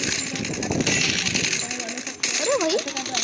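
A video game firefight ends in a headshot: rapid, dense bursts of gunfire sound for the first two seconds, then thin out under other game sounds and a short swooping tone.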